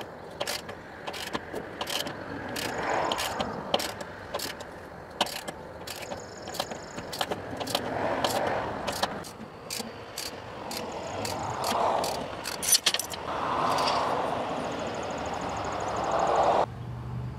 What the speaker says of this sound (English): I got a small pulley puller on the gear, the lower gear